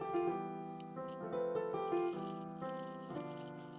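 Piano playing a song in plain triads, a slow series of sustained chords struck one after another, clear and moderately soft with no talking.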